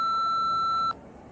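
A single long voicemail beep, a steady tone that holds for almost a second and then cuts off, leaving only faint line hiss.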